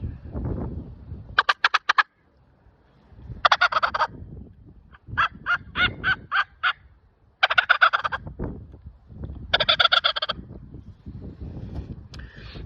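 A hunter imitates a turkey gobble on a mouth call, with a hand cupped over it for a darker tone. Several rapid rattling gobble bursts alternate with low breathy sounds between them, close and fairly loud.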